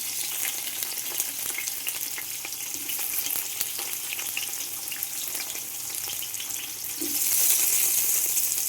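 Sliced onions sizzling and frying in oil with cinnamon, star anise, cloves and cardamom for a seeraga samba chicken biryani, a steady dense crackle close up that swells louder near the end, no voices.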